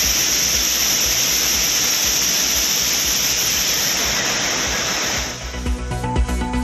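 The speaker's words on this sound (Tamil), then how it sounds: "ஆர்ப்பரிக்கும் வெள்ளத்தால் குற்றால அருவிகளில் குளிக்க தடை." Loud, steady roar of flood water pouring down the Courtallam waterfalls, a dense unbroken wash that eases slightly near the end as other faint sounds emerge.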